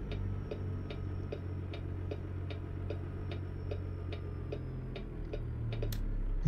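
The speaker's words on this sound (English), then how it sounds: "Got the stupid blinker shit going." A steady rhythmic ticking of a truck turn signal in American Truck Simulator clicks about twice per second over a low engine drone, a 389 Glider with a Detroit 60 engine.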